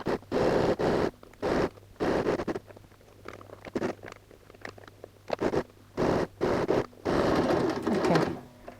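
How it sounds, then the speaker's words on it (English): Sewing machine stitching zipper tape onto a laptop case panel, running in short bursts of rapid, even stitching separated by brief pauses and fabric handling, close and alone. "Let's go ahead and sew a 1/4 inch stitch, starting and finishing with the back stitch."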